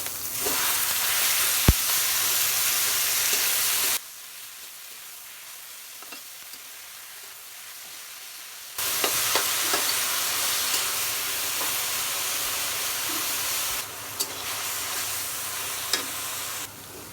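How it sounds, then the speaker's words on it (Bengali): Mustard greens sizzle and fry in a hot wok with onion, garlic, green chilli and lentil dumplings, a steady loud hiss with a few stirring knocks, broken by a quieter lull in the middle before the frying noise resumes. "পেঁয়াজ বড়ি ভাজা হয়ে গেছে এবার আমি শাকগুলো ঢেলে দেবো"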